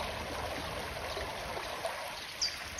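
Steady, soft trickling of water running outdoors, continuous and even, with a couple of faint bird chirps near the end.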